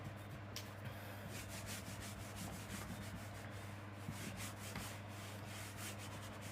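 A cloth or eraser rubbing writing off a board, steady scrubbing strokes repeating in a quiet room, faint and close with a low background hum.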